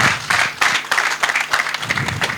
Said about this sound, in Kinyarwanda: mbasabye abo turi kumwe bakabaha amashyi